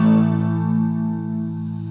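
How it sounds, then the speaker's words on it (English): A single distorted electric guitar power chord rings out clearly and sustains for about two seconds, slowly fading, with no talking. "So if you're using a lot of distortion as well, then these power chords are very stable."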